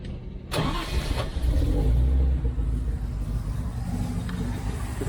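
A carburetted car engine, carbs disconnected while the ignition timing is being set, cranks and catches with a sharp burst, then settles into a loud, steady, rumbling run close by.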